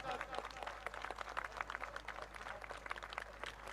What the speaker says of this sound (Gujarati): એકવાર બે હાથ ઊંચા રાખીને ખકડીને તાળી પાડો